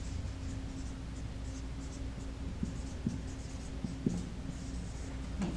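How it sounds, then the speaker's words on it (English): A pen writes on a board in steady, continuous scratchy strokes with a few small taps, close and fairly loud over a constant background hum. "And I'm going to write that down."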